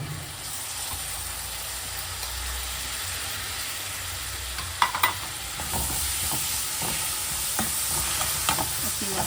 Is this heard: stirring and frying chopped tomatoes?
yes